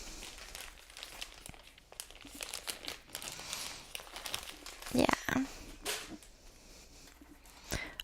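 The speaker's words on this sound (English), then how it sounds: "Opening a plastic bag with these nails is always fun." A plastic bag is opened with long fingernails during a wool needle-felting session. It gives close, soft crinkling and rustling, with a louder crinkle burst midway, and a voice speaks briefly.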